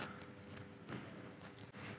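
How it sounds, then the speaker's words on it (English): Sharp scissors snipping a small incision into a succulent sphere, a few quick, faint cutting clicks close up, with light rustling in a quiet setting. "if you get a nice pair of sharp scissors, all you do really is cut a little incision."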